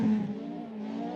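A Group B Mazda RX-7 rally car running on a gravel stage in Canterbury, New Zealand, giving a sustained loud engine drone with a steady pitch over about a second.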